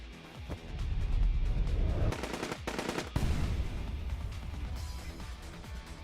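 Automatic gunfire in the video game AI: The Somnium Files, loud rapid bursts of shots rattling on for several seconds over a low rumbling game background.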